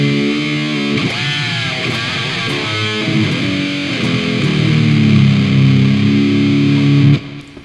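Electric guitar roars through a thick octave distortion, notes bending and sliding before settling into a loud sustained chord that cuts off abruptly.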